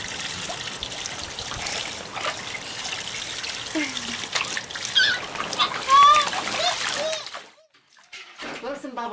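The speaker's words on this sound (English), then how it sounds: "You're swimming." A two-year-old child splashes while swimming, with irregular close splatters and trickling water alongside adult voices talking, the splashing fading near the end into a brief quiet stretch.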